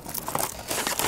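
Wrapping paper being cut while a Christmas gift is wrapped gives a brief, close burst of crisp crinkling and rustling.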